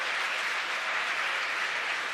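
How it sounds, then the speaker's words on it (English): A distant crowd cheers and claps during a SpaceX Falcon Heavy rocket launch, a steady wash of noise for about two seconds with no voices on top. "You hear the crowd cheer behind me."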